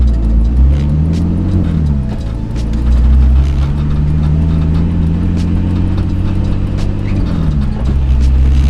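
Turbocharged BMW E46 engine under way while cruising near 2000 RPM, a loud, steady low drone with subtle pitch shifts and a brief dip as revs ease, no talk over it.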